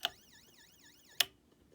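Back on its yelp tone, a GALLS ST105 siren warbles quickly for about a second between two sharp button clicks, then cuts off into near silence.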